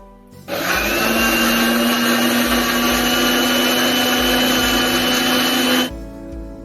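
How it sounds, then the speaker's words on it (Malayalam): A mixer grinder whirs steadily at high speed for about five seconds, blending tender coconut with sugar into juice, loud and continuous with a sharp start and stop. "ഇനി ഇത് മിക്സിയിൽ നന്നായി അടിച്ചെടുക്കാം."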